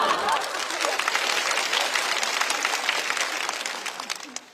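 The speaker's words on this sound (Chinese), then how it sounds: "不值得这个掌声吗？" A studio audience at a Chinese variety show applauds steadily, a dense, continuous wash of clapping that fades slightly toward the end.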